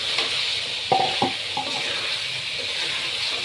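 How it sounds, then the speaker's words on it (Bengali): Duck meat and potatoes stirred in a frying pan make a steady sizzling hiss, broken by a few sharp scraping clinks of the spoon near the start. "এখন এখানে আমি আলুগুলো দিয়ে দিব।"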